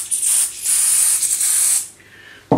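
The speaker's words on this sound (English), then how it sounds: "for me I'm just going to put a light spray of oil over them" Light oil sprayed from an aerosol can onto disassembled shotgun parts, two steady hissing bursts close by, the second longer, followed by a softer trailing hiss and a brief clack at the end.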